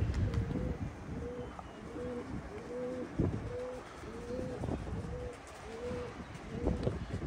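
Red pigeons coo in a steady series of soft, repeated calls, close by, over a constant low background murmur.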